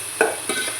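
A pan of potato fry gets stirred: two or three quick scraping strokes over a constant faint sizzle, close up and without any talking.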